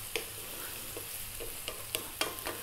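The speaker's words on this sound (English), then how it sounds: "We're now going to drop in our beef." Beef for chunky chili con carne frying in a hot pan, a steady sizzle broken by several sharp spatula scrapes and stirs, close and alone.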